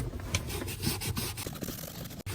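Cloth being rubbed with acetone over the surfaces of a marine seacock during replacement, a close, scratchy, rhythmic scrubbing with quick repeated strokes.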